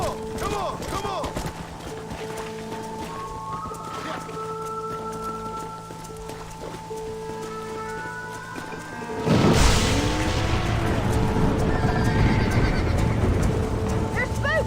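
Stampeding horses in the video game Red Dead Redemption, repeated whinnies and neighs over a galloping clatter, growing into a louder, denser rush of hooves and cries midway, with people talking over it.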